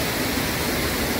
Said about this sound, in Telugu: సో ఇక్కడ ఒక వాటర్ ఫాల్ ఉంది.